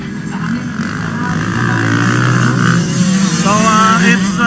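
Four-stroke racing motorcycles, including a Yamaha Motor Racing rider, roar past in a ladies' class race heat, their engines rising in pitch as they accelerate and overtake lapped riders, under continuous commentary.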